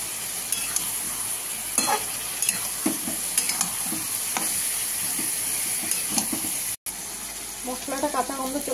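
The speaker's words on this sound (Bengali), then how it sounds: "এটা একটু হালকা ভাজা ভাজা হয়ে গেলে তারপরে দেবো সবজিটা।" Chicken and spices fry with a continuous close sizzle as a utensil scrapes and clinks against the pan now and then, followed near the end by a short patch of running water.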